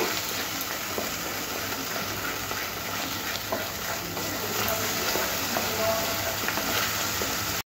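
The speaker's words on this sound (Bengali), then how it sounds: "3 থেকে 4 মিনিট মশলাটাকে কষে নেব।" Spice masala frying in a pan for a chicken maharani curry, a steady soft sizzle with faint scraping of stirring, quiet and constant throughout with no voices.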